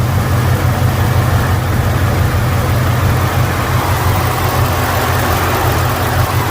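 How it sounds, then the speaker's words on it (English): A truck engine idles right after being reinstalled, having run with little or no oil and now leaking oil heavily, giving a loud, steady, close low drone that continues unchanged with no talk. "The motor sounds good for the most part."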